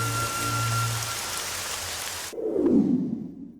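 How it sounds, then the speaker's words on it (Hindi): Rain falling in an outdoor scene of a romantic Hindi-dubbed film, a steady dense hiss that carries on under a music bed, then turns to a muffled heavier wash once the music cuts out. "तुम्हें कैसे पता था कि बारिश होगी?"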